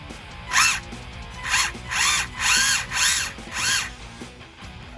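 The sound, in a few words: Tamiya RC car gearbox motor spinning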